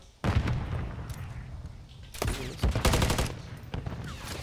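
Gunfire in a first-person shooter match, with loud repeated shot bursts and heavy impacts in clusters over a noisy background.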